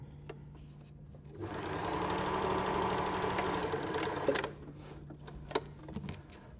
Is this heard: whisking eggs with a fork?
no